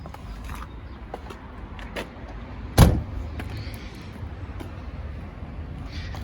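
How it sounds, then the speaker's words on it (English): A single sharp mechanical pop near the middle as the front trunk latch of a Ferrari F430 releases, over steady low background rumble with a few faint clicks. "This little button here is the one that opens the trunk, so let's pop that"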